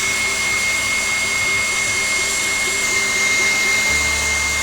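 An electric mixer runs on high, beating angel food cake batter with a steady, loud whirring drone and a constant whine, unbroken for the whole few seconds.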